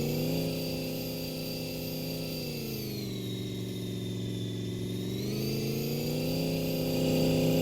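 A car engine in first gear on a dyno hums with a steady, harmonic drone, dipping slightly in pitch midway and then rising again, close and continuous with no talking.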